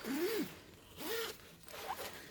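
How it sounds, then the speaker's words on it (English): A zip on a backpack strap is pulled in three quick rasping strokes, close and clear in a quiet room. "We're going to zip up our strap."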